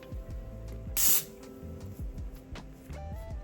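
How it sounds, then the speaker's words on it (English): Got2b spray hissing onto wig lace in one short, loud burst, with quieter handling noise before and after. "and then I am going to spray this"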